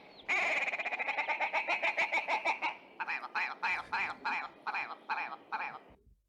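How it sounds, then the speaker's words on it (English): Willow grouse calling nearby in a loud, rapid series of harsh, stuttering clucks that run together at first, then break into separate barking notes, about a dozen in all. "Oh, that's actually a willow grouse."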